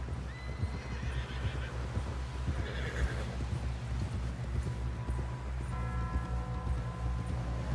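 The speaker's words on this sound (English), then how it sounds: "Someone help John down off this horse" Horse neighing and whinnying in Red Dead Redemption 2, with steady clip-clopping hooves running throughout over a dense game soundscape, the whinnies rising in short bursts near the start and middle.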